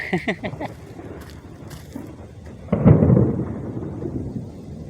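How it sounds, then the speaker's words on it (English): Thunder during a storm breaks partway through as a heavy, low, booming roll that swells and then slowly fades. A few brief knocks and rustles come before it. "Thunder's rolling, boys."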